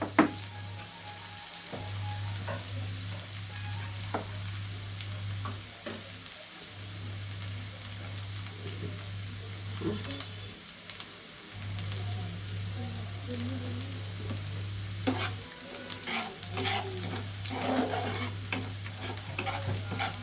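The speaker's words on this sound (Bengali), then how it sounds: "পেঁয়াজটাকে একটু ব্রাউন কালার হতে দিতে হবে।" Chopped onions frying in a pan, a soft continuous sizzle with crackling pops and occasional stirring scrapes, steady throughout over a faint low hum, no talking.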